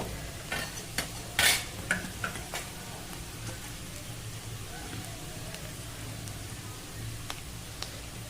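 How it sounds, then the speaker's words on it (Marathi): Turmeric is stirred into onions frying in a pan for kanda pohe, giving a steady soft sizzle with scattered scraping strokes, one louder scrape near the start, and no talk. "थोडंसं बघा आपण हळद पण मिक्स करून घेऊ"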